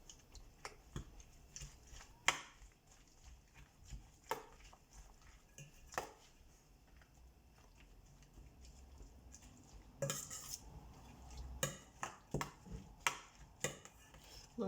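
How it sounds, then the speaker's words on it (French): Eggs are beaten in a bowl for a leek quiche, with faint, irregular clinks and taps of a utensil against the bowl and occasional louder scrapes, quiet and close with no talking. "Et je mélange."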